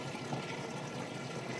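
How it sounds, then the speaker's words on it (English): A Whirlpool HE washing machine drains its water fast, making a steady, close rushing and gushing wash of sound with a faint pump hum beneath it and no talking. "now as you can hear, draining that water out nice and fast"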